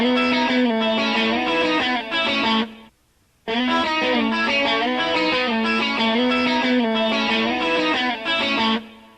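Electric guitar lick on the middle pickup with a touch of chorus and the volume rolled back slightly, sustained sliding and bent notes in two phrases split by a short silence, up close and alone.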